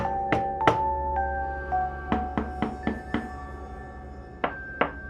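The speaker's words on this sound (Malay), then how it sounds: "sekali lagi dia terdengar bunyi pintu apartmen diketuk" Sharp knocks on an apartment door ring out in irregular bursts, a pair, then a cluster of four, then two more, each crisp and fairly close with a short resonant decay over a quiet background.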